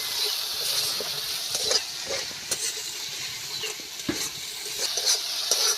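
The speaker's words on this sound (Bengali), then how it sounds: "ভালো করে এইভাবে কষিয়ে নিতে হবে নেড়ে চেড়ে" Masala is stirred and fried in a pan for a kalijira rui fish curry, a soft, continuous sizzle with faint scraping and occasional clicks from the spoon, heard close and quiet with no voice.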